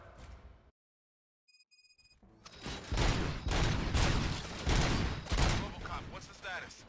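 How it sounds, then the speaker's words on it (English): Gunfire erupts in the RoboCop: Rogue City video game after a brief silence, with a dense fusillade of loud shots in repeated bursts alongside game sound effects. "Gunshots? What's going on?"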